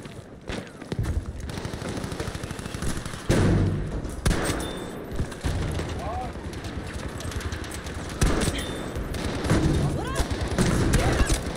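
Rapid gunfire in the online shooter game Battlefield V, with dense bursts of shots and heavy thuds. Players talk over the shooting throughout.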